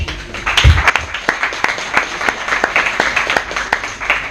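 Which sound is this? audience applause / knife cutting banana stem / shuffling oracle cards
audience applause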